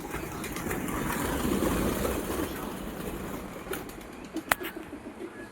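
A flock of pigeons flutters and flaps their wings, a soft whirring rush over steady outdoor rumble, ending with a few sharp flaps.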